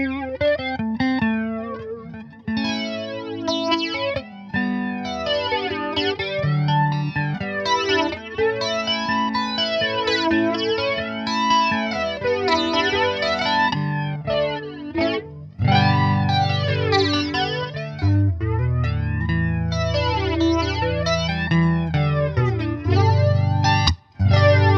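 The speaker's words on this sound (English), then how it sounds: "It's the EVH Flanger, by the way." Electric guitar played through an EVH Flanger pedal into a Fender Princeton Reverb Tone Master amp. Sustained chords and melodic lines carry a sweeping, jet-like swirl that rises and falls continuously, loud and steady with a few brief gaps.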